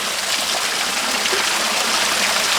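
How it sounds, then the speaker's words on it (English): Water is drawn in and squirts out the bottom of an angled wedge device, a steady, loud rushing and splashing flow that continues without a break, close by, with no voices. "you can see it draws the water in and it squirts out the bottom"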